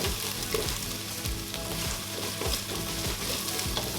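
Ginger garlic paste sautéing in a pan while making crab biryani, a loud continuous crackling sizzle with a regular rhythm of stirring strokes and no talking.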